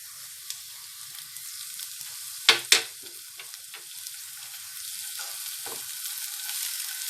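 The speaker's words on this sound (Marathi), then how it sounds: "ह्याच्यामध्ये मी आलं लसूण पेस्ट घालून ते पण परतून घेणार आहे" Onion and ginger-garlic paste sauté in a pan for veg fried rice, giving a soft, steady sizzle with a couple of sharp utensil clinks against the pan partway through.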